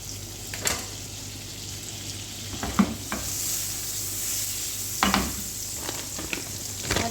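Chicken fries in oil and butter in a hot pan for a burger, a steady close hiss with occasional sharp clicks and scrapes as pieces are moved.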